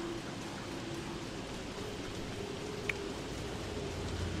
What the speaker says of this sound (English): We're going to lose a lot of sanity now because it's raining again.